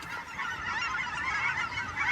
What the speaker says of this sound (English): And there's geese.